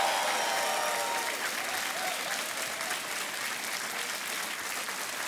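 Studio audience applauding on the KBC game show set, a steady, dense roar of clapping that holds loud and even across the whole stretch without fading.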